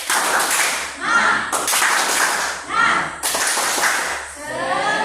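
A seated group performs the Indonesian 'tepuk semangat' rhythmic clap, sharp unison bursts of hands in a patterned sequence, loud and close, with voices briefly calling out between the claps.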